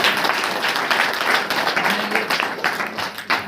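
A church congregation claps loudly and steadily at a Saturday prayer meeting, a dense wash of hand claps filling the room throughout.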